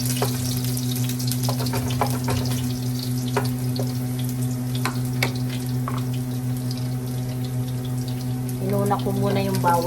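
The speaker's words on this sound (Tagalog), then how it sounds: "Kasi pag nagluluto ako ng tinola, ginigisa ko muna." Garlic sautés in a pot for chicken tinola, a steady moderate sizzle with scattered pops over a constant low electrical hum, and a brief voice near the end.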